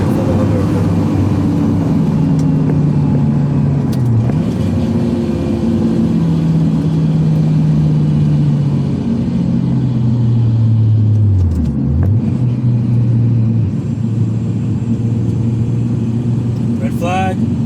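A Honda Accord laps the track at Sydney Motorsport Park with a loud, steady engine drone, its pitch rising and falling through gear changes and braking, heard from inside the car.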